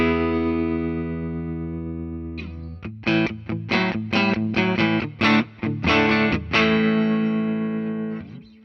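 A short-scale Japan Junior Stratocaster electric guitar through its bright, thin-sounding bridge single-coil pickup: a sustained chord ringing out, then a series of quick choppy strummed chords, ending on another held chord.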